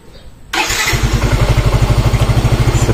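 A motorcycle engine starts abruptly after a quiet moment and settles into a loud, steady, rhythmic idle with a regular pulsing beat, heard up close with no talking.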